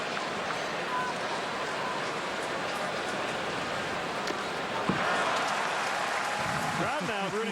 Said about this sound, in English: Crowd now rooting for foul balls.